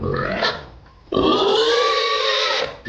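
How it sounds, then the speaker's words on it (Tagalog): Loud, close squeals and grunts from hungry native pigs, a brief cry, a pause, then a long drawn-out squealing grunt; no talking. "Magpapakain tayo ng mga alaga natin na Baboy, native at hyper"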